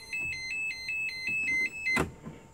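A 1991 Land Rover Defender 200Tdi's door warning chime beeps in an even rhythm, followed by a sharp thud near the end as the beeping continues.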